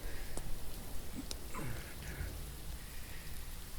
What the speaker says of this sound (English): The rain may be lightening up